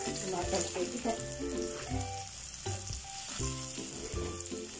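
Garlic and onion sauté in hot oil for Filipino ginisang mustasa with sardines, a steady sizzle with spattering pops and occasional stirring scrapes, close and continuous, under faint background tones.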